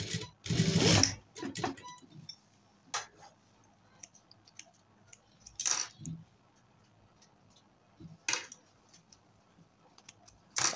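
An electric sewing machine stitches a coat in a tailoring workshop, with a loud burst of running at the start, then short intermittent runs and clicks spaced through the rest.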